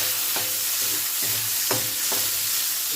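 Chopped onions sizzle steadily in hot cooking oil in a pan, a continuous hiss broken by a few sharp scraping stirs, close and fairly loud with no talking.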